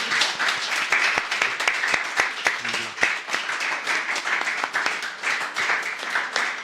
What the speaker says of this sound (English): Round of applause for Christian from here.